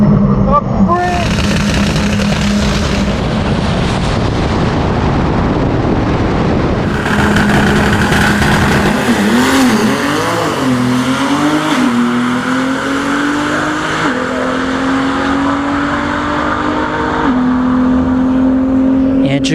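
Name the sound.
drag race cars launching down the quarter mile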